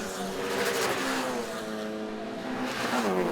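An Alfa Romeo championship race car heard from inside the cockpit at Cadwell Park, accelerating down the main straight past the pit lane with a loud, rising engine note that shifts gears and climbs again.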